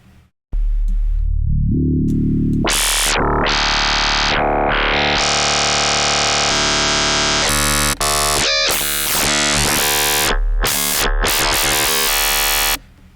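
Three-way FM synthesis from sine wave oscillators in Phase Plant, loud and continuous: dense buzzing, metallic tones that swell, shift in pitch and break into stuttering, rapidly modulated bursts, with no voice over them.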